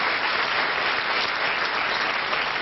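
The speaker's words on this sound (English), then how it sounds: "maybe a ripple of applause from the audience there" Studio audience applause at a 1974 television talent show, a dense, steady wash of many hands clapping at even loudness throughout.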